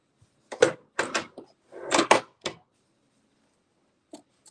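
Scissors trim fabric close to applique stitching, giving a handful of crisp, close snips in quick bursts separated by silence, with one faint cut near the end.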